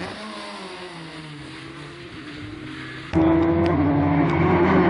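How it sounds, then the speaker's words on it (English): A two-wheel drive rally car runs hard on a forest stage, its engine droning at a steady pitch before a loud jump as it revs up and accelerates close by, alone without talk. "here we see Damien Cole in the first 2-wheel drive car"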